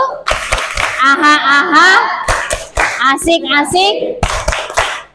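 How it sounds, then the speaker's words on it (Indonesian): A class of schoolchildren claps out a rhythmic spirit clap in sharp bursts, mixed with loud chanting and chattering kid voices close by. "Kita tepuk semangat dulu anak-anak."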